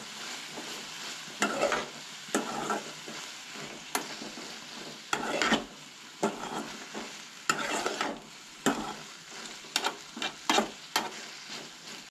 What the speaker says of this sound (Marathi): कांदो आणि भेंड्याची भाजी बरी मिक्स करून घेवंक जाय